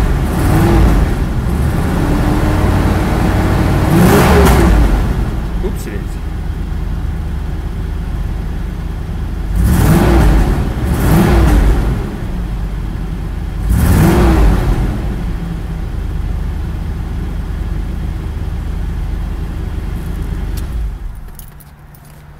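A 1973 Chevrolet Corvette engine runs steadily, with several louder revving surges rising and falling, then cuts out near the end; a brief spoken word is heard.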